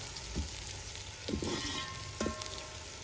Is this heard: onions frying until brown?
yes